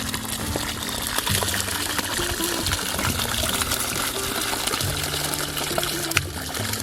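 Steady, continuous rush of water gushing from a windmill pump in southern New Mexico, loud and unbroken throughout, with no voices.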